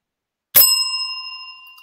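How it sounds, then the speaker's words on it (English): A single bright bell is struck once after a moment of silence, ringing out with a clear, sustained metallic tone that slowly decays, with no talking over it. "once I hit the bell"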